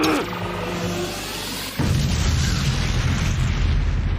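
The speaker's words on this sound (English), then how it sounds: "Awfully big explosion for something that small." A big, booming anime explosion from My Hero Academia erupts abruptly partway through, a loud broadband blast and rumble that follows quieter music and sustains to the end.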